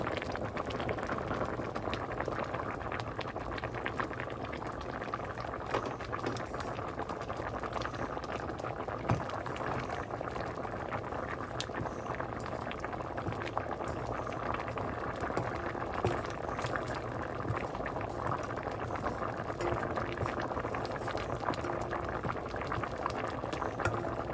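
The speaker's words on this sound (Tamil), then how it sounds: "பாருங்க இறால் எல்லாம் அவிஞ்சிட்டுது" Prawns boil in a pot of Jaffna odiyal kool, a steady, close bubbling and simmering that runs unbroken for the whole stretch with no voices over it.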